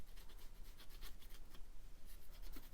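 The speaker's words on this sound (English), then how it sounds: "I'm just going to sort of scribble" Watercolour pencil scribbled across paper in quick rubbing strokes, a soft, close, dry scratching that comes in short bursts and stays fairly faint, with no one talking.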